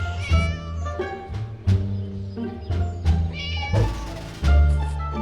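A cat in the video game Scary Teacher meows again and again in a loud, close, uneven series, with short pauses between the calls.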